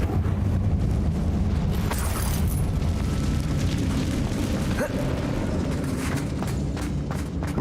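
A fire spell blast from the Confringo curse in the video game Hogwarts Legacy, set inside a mine, as a dense, roaring rumble that stays loud and fills the whole stretch, with no talk.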